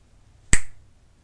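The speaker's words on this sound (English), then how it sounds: "Quicker than you can snap your fingers like that." A single crisp finger snap, sharp and close in otherwise quiet surroundings.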